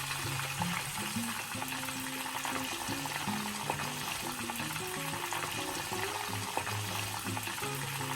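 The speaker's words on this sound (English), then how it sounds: "Heat up some oil and gently place in the tofu one by one." Tofu pieces frying in oil over medium heat, a steady close sizzle and crackle running throughout, with soft background tones and no talking.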